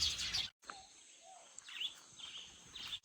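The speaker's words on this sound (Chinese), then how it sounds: "一群麻雀都在偷狗子的飯吃，嘰嘰喳喳的，太多了" Faint, scattered sparrow chirps and tweets sound at a distance over a quiet outdoor background, with brief bursts of twittering.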